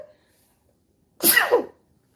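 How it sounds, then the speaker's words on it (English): A single close, loud sneeze from an adult with allergies, a short explosive burst after a quiet pause, with no talk around it. "I gotta sneeze."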